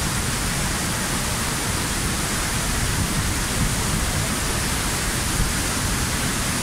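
Palovit Waterfall in the Black Sea region roars as a constant, dense, hissing rush of falling water, loud and unbroken throughout with no voices.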